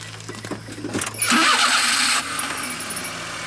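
An engine cranks and catches, roaring up loudly for about a second before settling into a steady running hum; no one speaks.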